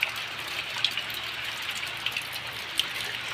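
Light, steady rain falls outdoors, a soft continuous hiss broken by occasional brighter drips and patters on a surface, with no voices.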